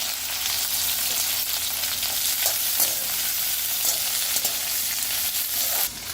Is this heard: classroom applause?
no